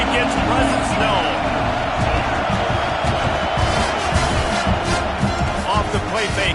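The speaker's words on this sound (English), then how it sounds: "This crowd ready to make its presence known." A college football stadium crowd at Nebraska vs Penn State roars and cheers as a loud, continuous wash of noise throughout, with a commentator talking over it.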